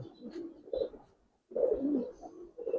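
An old-lineage Giribaz pigeon in a loft in Old Dhaka gives close, low throaty coos in two rolling bursts separated by a short pause.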